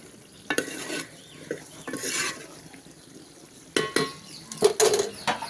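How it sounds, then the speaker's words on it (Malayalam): Mushroom curry being stirred in a pan with a spoon: intermittent scraping and clattering strokes over a faint sizzle, near and moderately loud, with quiet gaps between bursts. "നമ്മുടെ കറി റെഡി ആയിട്ട് നന്നായിട്ട് നമുക്ക് ഇളക്കി കൊടുക്കണം"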